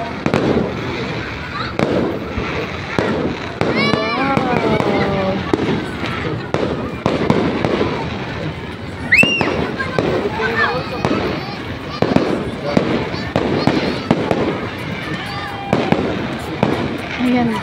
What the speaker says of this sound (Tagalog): Napapanood din ang fireworks.